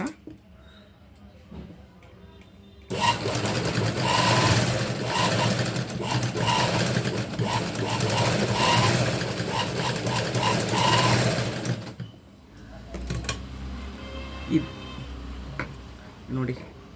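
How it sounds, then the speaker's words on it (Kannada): An old, unoiled sewing machine, some twenty years in use, runs rough securing stitches on saree fabric: a loud, close, steady rapid whirr lasting about nine seconds, with a person talking before and after the run. "ಸ್ಟಾರ್ಟಿಂಗು ಸ್ವಲ್ಪ ರಫ್ ರಫ್ ಹೊಡಿರಿ ಯಾಕಂದರೆ ಹೊಲಿಗೆ ಬಿಚ್ಚೋಗ್ಬಾರ್ದು ಅಂತ"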